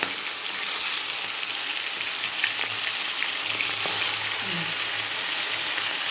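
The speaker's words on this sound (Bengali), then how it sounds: "তেলটা গরম হয়ে গেছে, আমি মাছটা দেবো। এখনই ফাটবে" Fish frying in hot oil gives a loud, continuous sizzle that stays steady from start to finish, close up with no speech.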